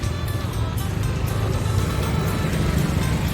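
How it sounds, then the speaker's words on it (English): Three-cylinder tuk-tuk engine running close by, a loud, steady, buzzy mechanical drone with a faint rhythmic ticking on top, continuous throughout. "There's a tuk-tuk."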